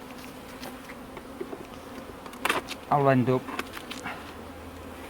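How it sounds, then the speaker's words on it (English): Honey bees buzzing around a hive frame destroyed by wasps and wax moth, a few close insect buzzes swelling loudly mid-clip over a faint background, with a brief voice. "There's still a few bees still trying to hang on there to life"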